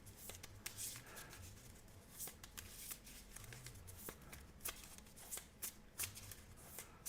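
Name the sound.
shuffling a deck of cards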